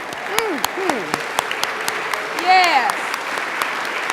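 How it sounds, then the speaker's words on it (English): An audience gives a standing ovation with continuous moderate applause and scattered sharp claps, while a speaker's voice rises and falls over the clapping and someone briefly calls out. "Give yourselves a standing ovation."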